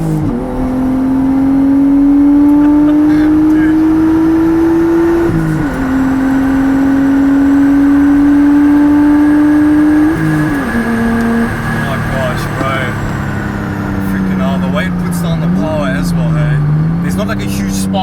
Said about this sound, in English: we're going to go for another power run.